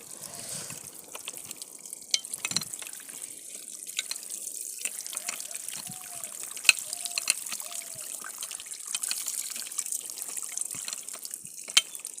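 Water draining out of an engine trickles and drips steadily and softly, close by, with small splashes throughout and no talk.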